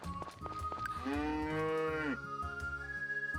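A cow moos once, long and clear, in the Harvest Moon: Friends of Mineral Town video game, over bouncy background game music.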